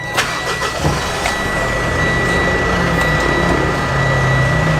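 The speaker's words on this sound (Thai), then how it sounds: "อ่ะพุชสตาร์ท" A Mitsubishi Pajero SUV engine cranks and catches after a push-button start, then settles into a steady idle hum close by.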